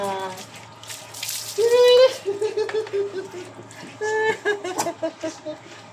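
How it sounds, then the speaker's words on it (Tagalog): Water is poured over a pet dog during a bath at home, splashing and pattering in bursts while people talk and call out over it. "Isang buhos pa, Piki."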